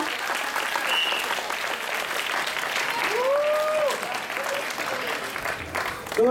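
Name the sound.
audience applause for dance teacher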